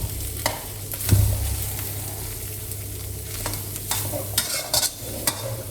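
A spatula stirs carrot and egg in a hot frying pan and scrapes the bottom, giving a series of sharp scrapes and clacks over a constant soft sizzle for pad see ew, close and clear with no talk.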